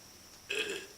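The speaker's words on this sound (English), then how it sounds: "it was like a half of a burp, one that didn't actually come up" A single short, half-suppressed human burp that doesn't fully come up, faint and brief, rising after a quiet moment and fading out within half a second.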